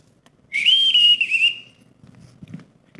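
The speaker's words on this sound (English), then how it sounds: "Everyone in this house answers to a whistle." A single sustained whistle blown to summon a household's staff, bright and loud, rising then holding steady for about a second before cutting off, leaving faint room noise and small knocks.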